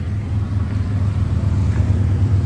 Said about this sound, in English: sorry about the highway noise here